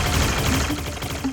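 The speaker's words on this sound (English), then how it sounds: "There are so many cannons!" Cannons firing in the video game Transformers: Cyberworld, a dense, continuous barrage of rapid blasts and rumbling booms, loud and unbroken with no talk over it.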